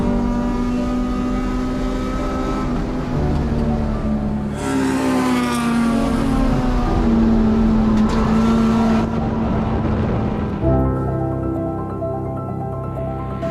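Race cars at Circuit Legends in a Grid Life Touring Cup event roar continuously, engines droning and revving up and down through gear changes as the pack passes close and loud, with no talk.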